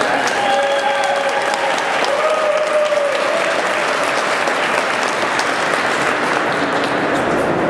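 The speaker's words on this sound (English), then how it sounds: "Please give a round of applause" Loud, sustained applause from a rally crowd in the Minnesota State Capitol rotunda for a NORML board member, a continuous wash of clapping with a few brief voices rising through it.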